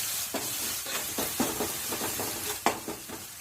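Onions, crushed garlic and green chillies frying in oil in a pan while being stirred, a steady close sizzle broken by repeated scraping stir strokes and a sharper clack near the end.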